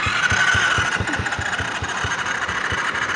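A quad's engine cranks without starting, giving a steady rhythmic chugging about four times a second under a constant mechanical whine, close and continuous throughout.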